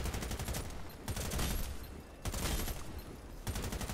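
Automatic gunfire from the video game Warface crackles in dense, rapid bursts, loud and close, with brief lulls between volleys and no talk over it.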